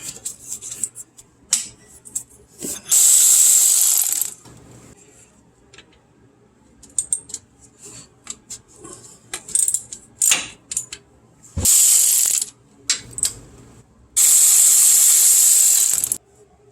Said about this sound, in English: So we're going to take the sump bolts off here.